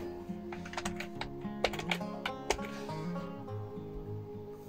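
Clicky keystrokes on a computer keyboard used with an Arduino Morse code generator, a quick irregular run of taps close to the microphone over a faint steady electronic hum.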